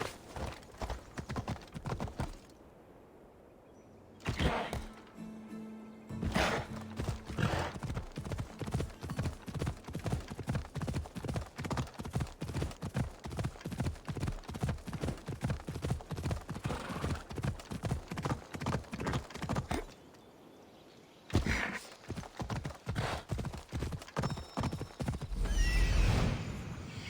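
A horse gallops in the Assassin's Creed Odyssey video game, its hooves drumming in a fast, steady rhythm. Two short pauses break the run, and a whinny rises near the start.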